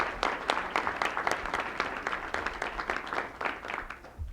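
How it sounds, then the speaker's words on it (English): Applause from an audience at a ceremony for all-county musicians, a dense patter of many hands clapping at once, starting loud and gradually tapering off. "let's give everybody a round of applause."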